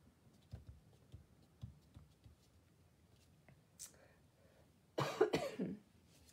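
A woman coughs in a loud, harsh burst of several rapid coughs near the end, close to the mic. Before it come quiet scattered rustles and small handling sounds from a card-making craft session.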